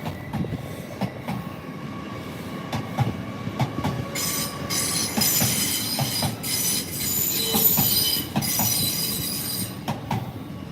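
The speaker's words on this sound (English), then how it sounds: "There's a Trans-Pennine Express service." Trans-Pennine Express train passing at a railway museum, steady rumble and rolling wheels with rhythmic clicks, then shrill wheel squealing that rises in the middle and lingers, moderately close.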